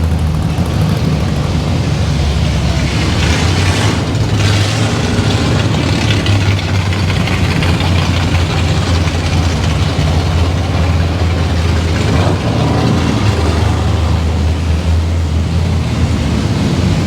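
Modern Mopar Dodge Hellcat idling at an outdoor classic car show, a steady deep low rumble held for the whole stretch, loud and close with a faint crowd murmur behind it.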